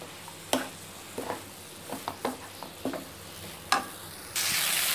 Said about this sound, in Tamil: கீரை நல்லா வதங்கிடுச்சு பாருங்கள்.